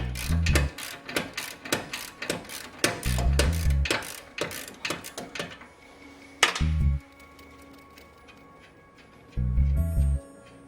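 A ratchet wrench clicks rapidly while a coupling rod is removed from an air suspension strut on a Range Rover L322. The close, loud bursts of ratcheting are separated by short pauses and a few single knocks.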